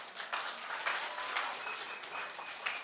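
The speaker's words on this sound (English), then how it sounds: "Let's clap, gentlemen." Applause from an audience at a national newsroom contest awards ceremony, a soft, steady patter of many hands clapping at a moderate distance for about three seconds.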